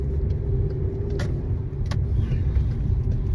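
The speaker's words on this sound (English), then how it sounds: "This car's trying to turn. Listen," A car engine idles and rumbles steadily up close with a deep low drone, a faint metallic whine and a couple of brief clicks, while the car struggles to turn over at a gas station.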